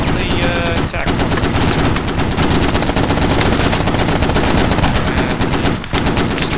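Marines' .50 cal machine gun and Mk19 grenade launcher laying down suppressive fire as a combined anti-armor team, a loud, nearly continuous roar of rapid bursts with only brief gaps, close by.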